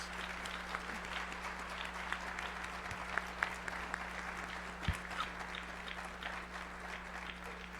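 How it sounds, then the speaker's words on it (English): Applause at a postsecondary education symposium, a faint, distant, even patter of many hands clapping over a steady electrical hum, with a few sharper claps standing out. "Let's give him another round of applause."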